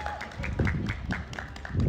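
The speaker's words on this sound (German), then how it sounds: "Einmal Applaus, bejubelt euch mal selbst." Applause from race volunteers and crowd at the Eco Grand Prix electric 24-hour race at the Nürburgring: scattered, uneven clapping with a few thumps, mixed with talking voices over it.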